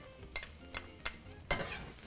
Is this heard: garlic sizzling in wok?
yes